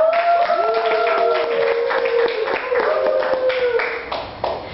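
A talk show audience claps for its guest speakers, a run of scattered, overlapping hand claps heard under a voice or tonal sound, fading toward the end.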